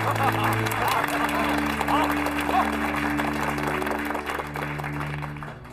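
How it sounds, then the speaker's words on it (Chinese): Clapping from a gathered crowd of comrades thanking a benefactor who brought meat, a sustained burst of applause that fades slightly toward the end, with voices mixed in. "我们用最热烈的掌声，谢谢童大当家的"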